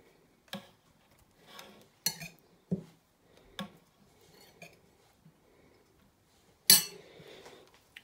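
A spoon scrapes and clinks against a pot while couscous is mixed with dried fruit, giving a few sharp separate knocks with quiet gaps and one louder clank near the end, no talk.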